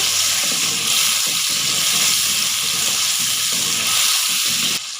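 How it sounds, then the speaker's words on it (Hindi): Cubed tomatoes frying in a pan until soft give a loud, continuous sizzle with faint stirring, steady throughout with no talking. "व्यूअर्स टमाटर को सॉफ्ट होने तक हम भूनेंगे।"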